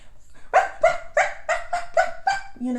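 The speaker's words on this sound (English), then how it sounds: "It's that bark that I remember Cesar Millan saying" An insecure dog barks repeatedly and loudly nearby, about seven sharp barks in an even rhythm, the last one lower and shorter, with no voices.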